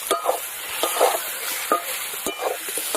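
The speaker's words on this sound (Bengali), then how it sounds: "এই যে আলুটা ভালো করে একদম ভেজে নিয়েছি এবার আমি দিয়ে দেবো পেঁয়াজ কুচি" Chopped onion tossed in with well-fried potatoes in a hot pan, giving a continuous sizzle broken by several scraping stirs of a spatula, close and without talking.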